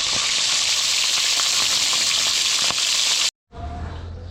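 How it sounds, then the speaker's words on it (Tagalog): Fish sizzles loudly in hot oil in a pan, a dense steady frying hiss that cuts off abruptly near the end, then resumes more quietly with a low hum beneath. "Piprituhin lang po natin ito at kakain na po tayo."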